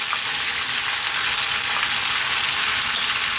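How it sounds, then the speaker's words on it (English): Onion hits a hot pan over above-medium heat and fries with a loud, steady, continuous sizzle and no talking. "We're now going to drop in our onion."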